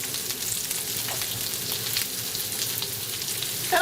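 Slices of fresh garlic, garlic stem and rosemary fry in oil, giving a steady close crackling sizzle, with a brief stirring scrape at the very end.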